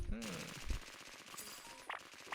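Rapid automatic gunfire in a first-person shooter video game, with dense bursts of shots throughout, a few louder cracks and brief excited voices in the background.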